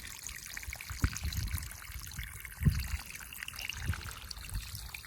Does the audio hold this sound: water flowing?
yes